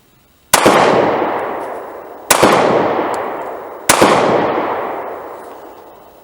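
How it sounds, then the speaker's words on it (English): A Springfield XDS 9mm handgun fires three loud, close shots about 1.7 seconds apart, each a sharp crack followed by a long reverberant decay. "I'm going to run a couple of shots"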